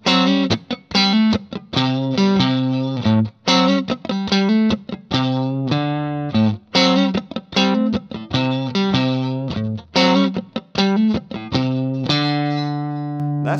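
Electric guitar riff, played loud and close with a distorted tone, choppy rhythmic chords and notes separated by muted string clicks, repeating through the passage.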